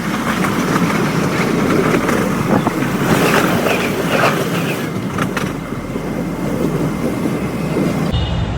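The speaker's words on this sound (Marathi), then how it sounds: "आता मी ट्रेनमध्ये बसलो आहे" Inside a moving Mumbai train, a loud steady rumble and rattling carriage noise with occasional clanks, continuous throughout.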